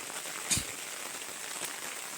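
Steady monsoon rain falls in a village, a faint, even hiss of drops on surfaces with one brief louder splash or knock.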